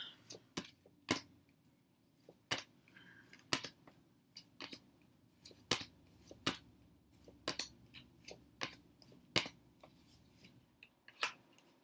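Tarot of the Sidhe cards flipped one by one through the deck, a steady series of sharp, separate snapping flicks at an uneven pace, close and clear against a quiet background.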